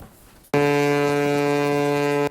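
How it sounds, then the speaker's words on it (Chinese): A warship's horn blasts across open sea, one loud sustained low blare with rich harmonics that starts suddenly, holds for nearly two seconds and then stops sharply. "洪亮鸣笛声响遍整片海域"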